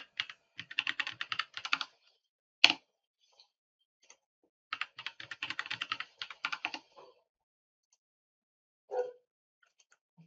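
Someone types a password on a computer keyboard in two bursts of rapid, close key clicks, separated by a single sharp tap and a pause, with a faint soft knock near the end.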